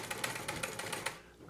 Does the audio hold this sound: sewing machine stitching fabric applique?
yes